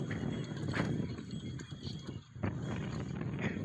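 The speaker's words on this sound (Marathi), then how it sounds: "बैलाच्या सहाय्याने व मनुष्याच्या सहाय्याने डवरणी चालू आहे।" Bullocks draw a traditional weeding hoe through a crop field, giving soft rhythmic hoof thuds and scraping soil sounds at moderate distance, steady throughout.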